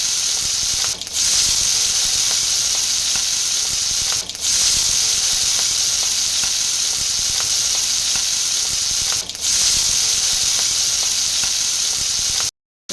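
Marinated shrimp frying in a pan with curry leaves, a loud continuous sizzle broken by three brief dips where the food is stirred, ending abruptly.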